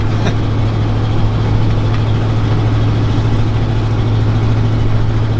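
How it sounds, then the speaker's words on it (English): The engine of a restored 1986 Ford F250 with cracked cast iron exhaust manifolds runs steadily up close, a loud, heavy low drone with a constant rough texture, no talking. "if you can tell by the noise, I think that those have probably cracked by now."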